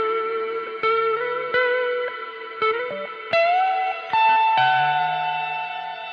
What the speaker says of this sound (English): now if I put on a reverb